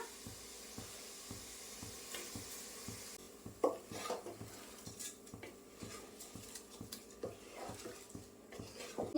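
Washed rice is stirred in a pressure cooker pot with partly cooked chicken, a quiet series of rhythmic metallic scrapes and clinks from the spoon over a faint sizzle, with no voices.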